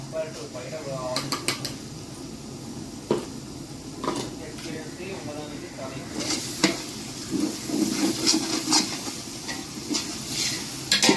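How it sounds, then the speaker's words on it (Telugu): Chilli and mint paste goes into a simmering stew and is stirred, with a soft bubbling sizzle under repeated clanks and scrapes of a spoon against the pot, close by. "ఇప్పుడు నేను వేసే పేస్ట్ నేను చిల్లీ అండ్ పుదీనా పేస్ట్ చేసుకున్నా అదొక టూ స్పూన్స్ వేసుకుంటా"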